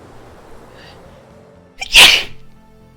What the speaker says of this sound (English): Yeah, sneeze.